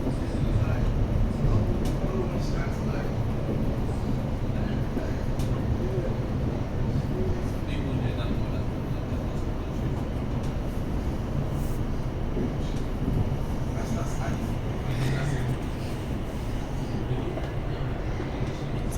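Steady interior rumble of a Thameslink passenger train running between Luton and Rainham in Kent, a continuous low drone throughout with faint rattles, no distinct events.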